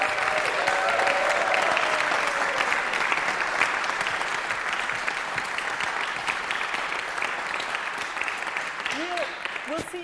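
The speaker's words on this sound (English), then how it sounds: "Huge round of applause for all these fantastic people here" Audience applause and cheering at a live brass performance show, a dense steady clapping that stays loud throughout with a few faint voices rising near the end.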